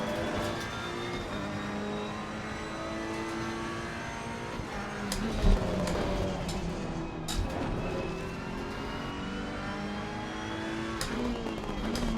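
Car engine in a sim racing video game held at a steady high drone, with shifting revs and faint tire noise and a few sharp knocks, continuous throughout.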